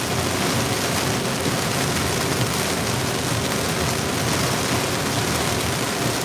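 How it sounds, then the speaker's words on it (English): Heavy rain from a thunderstorm drums steadily on a car roof, a dense, constant roar of water with no one speaking. "Told you guys we had a lot of rain coming."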